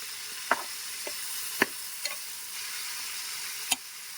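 Broad beans fry in oil in a pan with a soft, steady sizzle, broken by a few sharp clicks of stirring against the pan.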